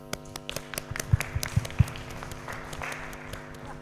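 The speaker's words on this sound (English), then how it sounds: "Please give them big round applause." A sparse round of applause at an international symposium, a handful of separate claps, some sharp and close, over a steady electrical hum, thinning out as it fades.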